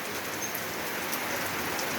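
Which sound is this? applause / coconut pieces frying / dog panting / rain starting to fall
rain starting to fall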